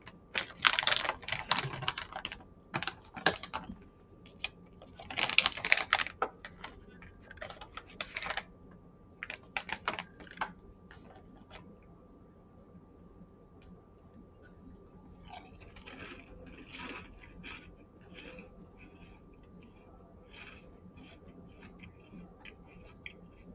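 Close, crunchy chewing of White Milk Caramel Corn eaten together with Pokemon Christmas Chocolate: irregular crisp bites and clicks, busier at first, then sparser and quieter, with no talking.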